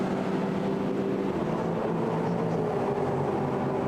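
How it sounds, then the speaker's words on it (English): A Mercedes race car engine roars steadily at high revs during the 24-hour Nürburgring race, a dense continuous mechanical drone with a slight pitch shift, loud and without pauses. "The unmistakable sound of the Mercedes engine."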